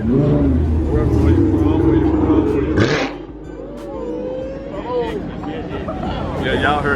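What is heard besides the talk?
Dodge Hellcat exhaust pipes revving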